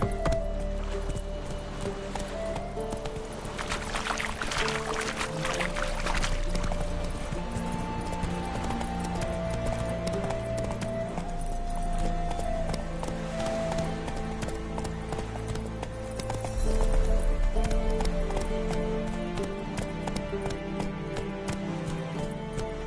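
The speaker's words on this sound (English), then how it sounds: "Whoa. Giddy up. That's it, Roach." Horse hooves clip-clop steadily throughout the Witcher 3: Wild Hunt video game while a rider travels, under continuous in-game music and ambience.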